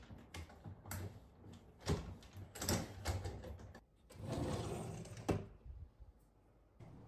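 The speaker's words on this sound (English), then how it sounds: "Now watch the motion of how to get the drawer in." An IKEA MICKE desk drawer is slid into place by hand, with scraping, sliding rattles and a few sharp knocks of the drawer seating, heard up close and quiet with no talk.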